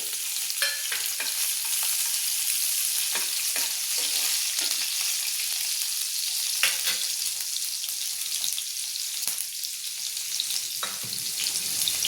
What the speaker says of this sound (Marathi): आता मंचुरियनसाठी आपण भाज्या शिजून घ्यायच्या त्याच्यासाठी आलं लसूण मिरची हे टाकून घ्यायचं आधी